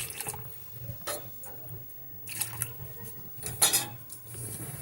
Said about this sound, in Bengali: অল্প অল্প করে দুধ দিয়ে আমি একটা ব্যাটার তৈরি করে নিচ্ছি